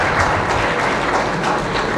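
A church congregation at a St. Francis feast-day service in Lahore gives a short burst of dense, steady applause that fills the space with no voices.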